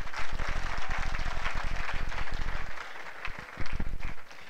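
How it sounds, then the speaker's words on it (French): A church congregation applauds during a service, a steady dense wash of many hands clapping close and sustained, with brief dips and swells through the stretch. "Oui, vous pouvez applaudir, applaudissez."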